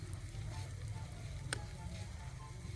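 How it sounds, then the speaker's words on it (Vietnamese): Breaded food, dipped in flour and panko, fries in a pan on a preheated electric cooker, giving a steady, even sizzle throughout with one brief sharp crackle. "Rồi để lên chảo chiên nè."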